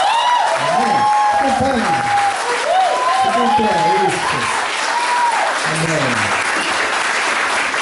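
A church congregation at a Mother's Day service gives warm applause for the preacher's mother, dense continuous clapping while a voice carries over it.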